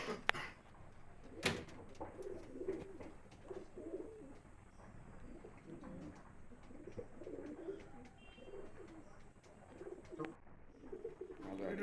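Madrasi pigeons kept in a loft coo softly in repeated low throaty calls, fairly quiet and close, with a few faint knocks and rustles between them.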